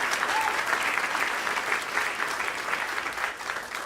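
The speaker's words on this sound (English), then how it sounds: "so we get a quick round of applause for that" An audience at a jazz club gives steady, dense applause that holds at an even level throughout, with no speech over it.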